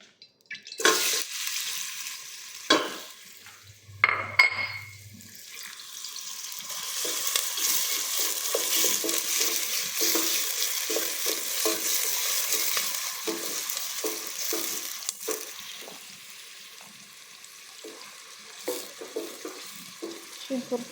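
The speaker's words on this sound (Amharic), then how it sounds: "አሁን ዘይቴ ስለፈላልኝ ሽንኩርቴን እጨምራለሁ።" Onions stirred into hot boiling oil for a meat dish, a steady close sizzle and fry with intermittent scraping and stirring strokes, preceded by a few clanks of utensils; no talking.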